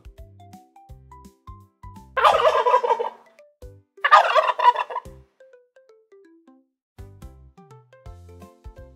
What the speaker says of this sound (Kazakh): түйетауық